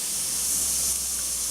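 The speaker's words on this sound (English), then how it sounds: "It always pays to do a little test spray first before you actually start on your piece" Short, steady hiss of an airbrush test spray before painting an Eduard Bf 109G-2 model kit, loud and close, with no talk over it.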